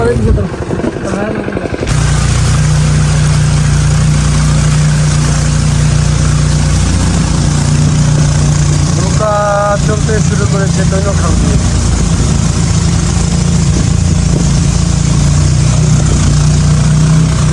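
A small river boat's engine drones loudly and steadily as the boat pulls away along a narrow hill-country canal, a constant low mechanical hum with someone talking over it.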